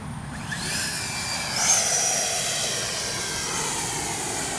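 A Freewing Yak 130 radio-controlled twin-jet model passes overhead on a go-around, a steady whooshing ducted-fan roar that swells briefly and then holds, heard outdoors from a moderate distance with no talking.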